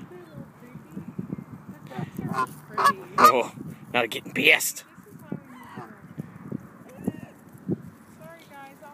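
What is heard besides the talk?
geese honking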